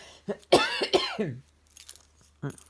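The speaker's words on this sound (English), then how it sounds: "I was starting to cough this morning," A few short, harsh coughs near the mic, one burst after another, then a brief pause and a final cough.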